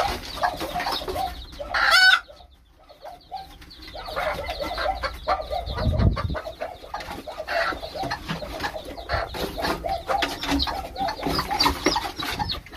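Mother hen with ten newly hatched chicks, clucking and cheeping close by, with a sharp loud squawk early on followed by steady busy chirping and low clucks.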